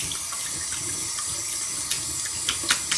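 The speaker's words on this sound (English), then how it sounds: "I'm at my sink, you get some warm water" Warm water runs steadily from a faucet into a bathroom sink, a close, even hiss and splash with a few small louder splashes near the end, alone with no voices.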